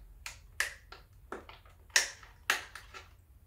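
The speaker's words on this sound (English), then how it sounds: "I could put a hole in the bottom of each individual one here with a sharp pair of" Sharp scissors snip drainage holes in the bottom of a homemade plastic container, making a series of crisp, close clicks and crunches spread irregularly over a few seconds.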